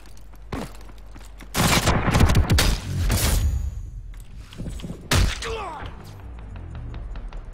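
Sniper rifle fire and other gunfire in a fast online shooter, heard as several loud sharp bursts and crashes spread irregularly through the stretch, with quieter gaps and faint game noise between them.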